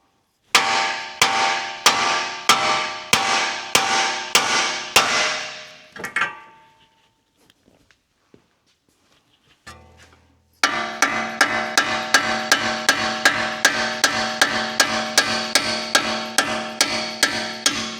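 A hammer strikes strut bolts to knock them out during a Ford Explorer ST axle disconnect replacement. A steady run of loud metallic blows comes first, then a quiet gap with faint clinks, then a long, rapid series of hits.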